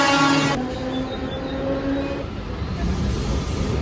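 Mumbai local train arriving at a station toward Parel, a loud continuous rumble of wheels and carriages with a bright squeal starting near the end, close and dominant.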